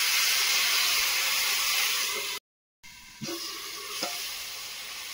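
Nigella seeds and taro stolons frying in hot oil, a steady loud sizzle that cuts out briefly, then resumes with a few sharp crackles and stirring scrapes.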